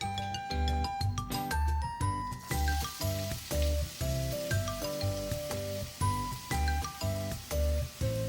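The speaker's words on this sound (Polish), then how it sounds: "na patelnię dodaję 2-3 łyżki oleju i podsmażam cebulkę, aż będzie miękka i lekko złocista" Chopped onions sizzle in a few spoonfuls of oil in a frying pan, a steady frying hiss running under loud rhythmic background music for the whole stretch.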